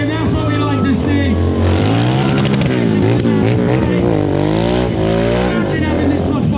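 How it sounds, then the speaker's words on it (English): A Royal Enfield motorcycle revs hard during a stunt show at a motorbike festival in Peterborough, its throttle rising and falling loudly and close, with a commentator talking over the engine. "Opens up the throttle again."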